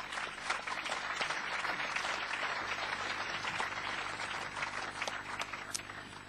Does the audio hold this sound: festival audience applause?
yes